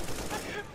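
A quick burst of rapid gunfire from the video game CS:GO, dense and noisy in under a second, with a voice mixed in.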